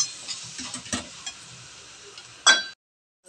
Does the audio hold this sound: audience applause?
no